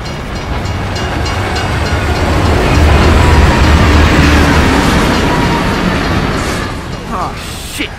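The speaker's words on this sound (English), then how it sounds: "it's a bloody train coming the other way!" A train rushing through a tunnel in the video game Gears of War 3, a loud continuous rumbling roar that swells and then eases off, with brief voices toward the end.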